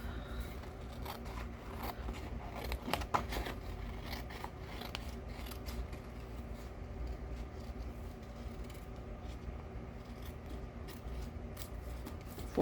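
Paper snipped with scissors while trimming a handmade scrapbook card, a steady run of soft close cuts and rustles at low level, with a few sharper snips near the start.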